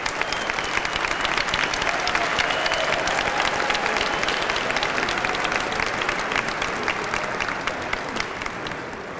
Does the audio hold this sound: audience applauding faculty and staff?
yes